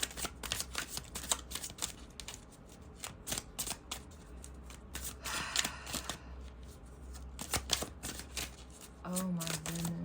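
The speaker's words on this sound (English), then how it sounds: "I'm going to take 2 more cards from here." A deck of tarot cards is shuffled and cards are drawn, making rapid crisp riffling and slapping sounds close up, repeated in bursts over a quiet room, with a voice briefly speaking at the end.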